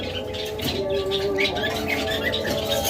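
Pet breeding-pair birds call, chirp and coo continuously at close range, with a few sharp tweets over a busy background of birds.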